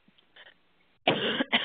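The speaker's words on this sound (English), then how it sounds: "Excuse me for coughing" A person coughs twice in quick succession, a loud harsh burst followed by a shorter second one, close to the microphone during an online software demonstration, with only faint quiet sounds before.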